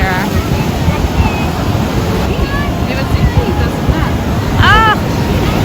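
Ocean waves break on the beach at a sea turtle release, a constant loud surf roar mixed with microphone wind buffeting, while high bird calls chirp over it now and then.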